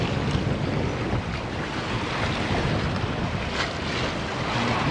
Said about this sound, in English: What the waves can do.